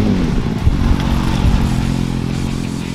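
A Kawasaki Ninja superbike's engine runs loud and close, a rough low-pitched idle with clattery mechanical texture and slight revving swells, steady throughout with no speech.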